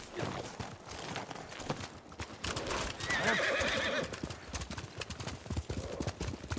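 Horses trot with steady clip-clop hooves and a whinny in Ghost of Tsushima, a feudal Japan action game, the hoofbeats continuous and fairly close, with faint voices now and then.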